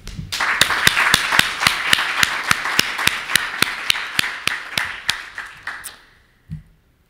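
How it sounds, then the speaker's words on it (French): Hall audience applause after a plenary session, heard as a run of crisp, evenly spaced claps in a steady rhythm that thins out and stops near the end. "je pense que vous méritez une très bonne main d'applaudissements."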